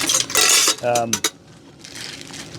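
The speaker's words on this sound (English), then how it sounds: "More aluminum cutlery or Titanium cutlery." Aluminum or titanium camping cutlery handled up close: a rattling shuffle followed by a few sharp metallic clinks and a brief ringing tone, then faint rustling.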